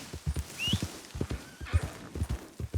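Horse hooves clip-clopping in an uneven rhythm with a sharp whinny early on, from the horse Sparrow being bonded with in Red Dead Redemption 2; close, moderately loud, with no talking.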